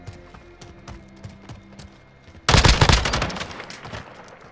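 Burst of AUG assault rifle gunfire in Call of Duty: Modern Warfare, a loud rapid volley of shots that starts abruptly after a quieter stretch of game sounds and then trails off.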